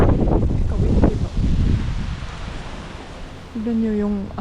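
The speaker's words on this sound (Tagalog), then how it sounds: "Tignan nyo yung hangin, oh. Kung gaano ka-windy" Strong wind blows outdoors, buffeting the microphone with a rough, gusting roar. Someone talks over the first part, and a brief tonal sound comes near the end.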